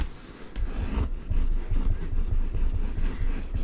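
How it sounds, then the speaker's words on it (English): A folded paper card from a Stampin' Up! card kit is burnished along its crease in quick, rhythmic back-and-forth rubbing strokes, close and moderately loud. No one speaks. "I'm just going to burnish that in."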